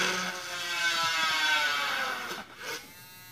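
Mini rotary tool fitted with a wood drill bit boring into wood, a steady high-pitched whir with strong harmonics that holds for about two seconds, then dips and winds down briefly near the end as the bit slows.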